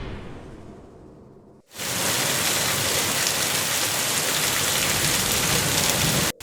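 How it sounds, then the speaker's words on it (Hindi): After a quiet patch and a brief pause, heavy rain bursts in and pours steadily, a dense, loud roar of water. "कुछ ही देर में तेज बारिश शुरू हो गई।"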